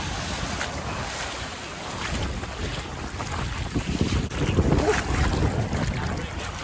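Ocean waves at Hollywood Beach, Florida, wash and surge around a person standing in the water, with gusty wind buffeting the microphone and swells building toward the end.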